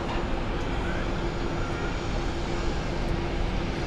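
El Al Boeing 737-9 airliner at Zurich Airport, bound for Tel Aviv, preparing for takeoff: a steady, broad engine roar at moderate distance, constant throughout with no clear build-up.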